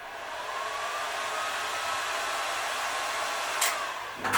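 A heat gun blows a steady, breathy hiss of hot air over vinyl wrap on a motorcycle helmet, a constant close rush that holds for several seconds before a short clatter at the end.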